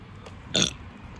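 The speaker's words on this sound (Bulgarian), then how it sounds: "Ние казахме, че 24 часа се оригваме" A single short burp into a close microphone, a brief raspy burst in an otherwise quiet room.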